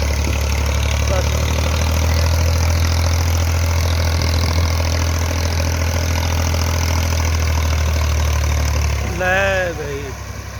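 A Massey Ferguson MF 240 tractor engine rumbles steadily at close range, a loud low drone running for ten seconds. A voice talks over it near the end as the engine tone eases slightly.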